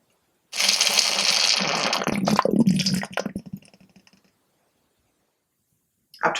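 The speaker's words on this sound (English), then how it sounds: "I'm going to siphon the cider into the pressure barrel." Cider siphoned from a fermentation bucket into a pressure barrel, with a steady, close rush of liquid for about three seconds that thins to trickles and gurgles, then stops. A brief noise returns at the end.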